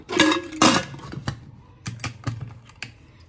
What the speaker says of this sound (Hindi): अब लगेंगे ढक्कन